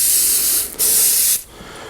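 K&N air filter oil sprayed from an aerosol can onto a foam air filter, two long close hissing bursts with a short pause between them and a brief third spurt at the end.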